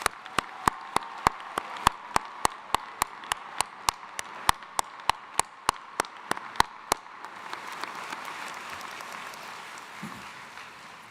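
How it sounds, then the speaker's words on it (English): Evenly spaced sharp clicks tick steadily for several seconds, then a broad wash of crowd applause at a commencement ceremony in an arena rises and continues to the end. "you need to give yourselves a nice, round, warm applause"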